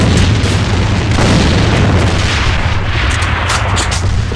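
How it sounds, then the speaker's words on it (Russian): Loud, dense rumbling blast from a thrown grenade in the online shooter Ava, a continuous heavy roar with low booming filling the whole stretch, no talk over it. "Бросаю гранату."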